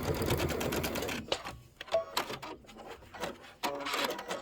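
A home sewing machine runs a short back stitch while quilting a Kimberbell Sweet Land of Liberty pillow: a steady rapid mechanical whir, a brief pause with clicks and knocks, then renewed bursts of stitching, all close and fairly loud.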